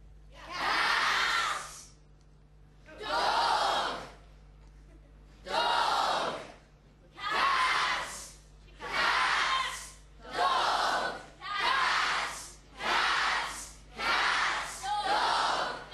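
Children in an audience at a Royal Institution Christmas Lecture shout single words in unison, nine loud bursts of about a second each, separated by short pauses and coming faster toward the end.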